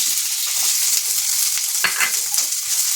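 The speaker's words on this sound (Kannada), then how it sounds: "ಚಕ್ಕೆ ಫ್ರೈ ಮಾಡಿ ತೆಗೆದಿಟ್ಕೊಂಡು ಅದಕ್ಕೆ ಈರುಳ್ಳಿ" Half an onion frying with cinnamon in a pan, a steady close sizzle with occasional stirring scrapes, no one talking.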